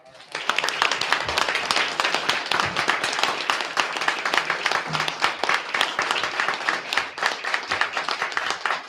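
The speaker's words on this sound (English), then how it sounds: "One more round of applause" A round of applause at a school district board meeting: loud, close, sustained clapping from a room of people, with individual sharp claps standing out from the steady crowd patter.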